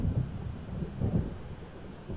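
Thunderstorm in the video game Alan Wake Remastered, heard as deep rolling thunder rumbles swelling twice over a steady low background, with no voices.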